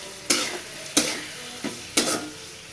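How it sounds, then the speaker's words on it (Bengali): Soaked soybean chunks coated in salt and turmeric are stirred into spices in a hot pan, with four or five sharp spatula scrapes against a low, steady sizzle, no voices present. "লবণ আর হলুদ মাখায় রাখা সয়াবিনগুলো দিয়ে দিব। দিয়ে ভালো মতো মশলার সাথে কষাই নেব।"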